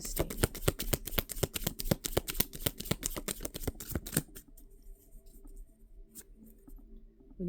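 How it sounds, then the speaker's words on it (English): Tarot cards riffled and shuffled by hand, a dense run of quick crisp flutters for about four seconds, then quieter soft handling with a faint click near the end. "as I shuffle through the deck"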